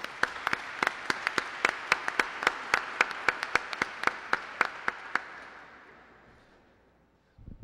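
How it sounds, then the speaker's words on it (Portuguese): Audience applause for youth parliamentarians at a formal closing session in a legislative assembly hall: a run of sharp, evenly spaced single claps, fairly close and distinct, that stops after about five seconds and leaves faint room tone. "eu gostaria de primeiro pedir uma salva de palmas aos parlamentares juvenis que nunca desistiram"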